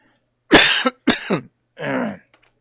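Three harsh coughs in quick succession from one person close to the microphone, the last slightly softer, followed by a faint throat click.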